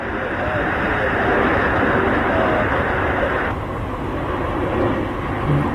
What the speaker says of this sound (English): Had another C-17 pass over.